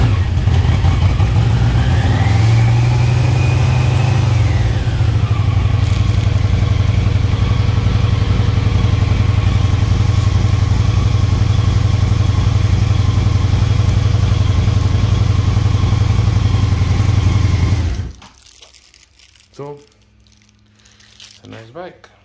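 Loud, close running of a 1985 Yamaha Vmax 1200 engine, a steady rumble with one rev rising and falling early on, cutting off abruptly near the end, then quiet handling sounds.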